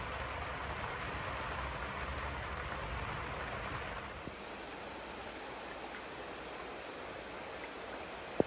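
Steady rain falls beside a canal in summer, a soft, even hiss of drops that eases slightly partway through, with no voices.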